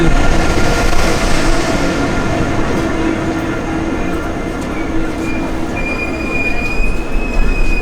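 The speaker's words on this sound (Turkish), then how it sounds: "Trenimiz geldi." A train rolls into Amsterdam Central station with steady rumbling and screeching wheels, a high metallic squeal rising near the end as it slows, loud and close.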